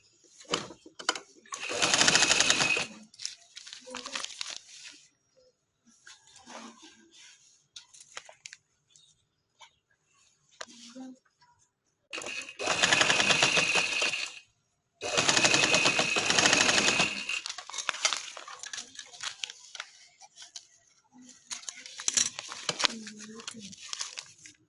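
A sewing machine stitches a black trouser in several loud bursts of rapid, rattling stitching, with quieter stretches of fabric handling and pauses between the runs.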